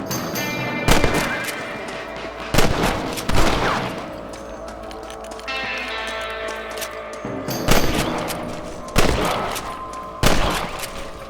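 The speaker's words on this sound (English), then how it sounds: "You're better at shooting rabbits than outlaws" Gunshots in the Red Dead Redemption western game, fired while hunting rabbits: about seven loud, sharp cracks spaced a second or two apart, each leaving a ringing tail over quiet background music.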